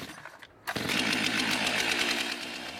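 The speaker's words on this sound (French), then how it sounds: "Il a simplement décidé de dégager la route à coups de tronçonneuse." A chainsaw roars at steady high revs while fallen trees are cleared from a flooded road, starting abruptly after a brief lull and running continuously and loud, close by, with no talking.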